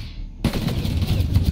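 Rapid automatic gunfire bursts in suddenly and keeps up a loud, dense stream of shots in a Mass Effect: Andromeda firefight aimed at knocking down an enemy shield.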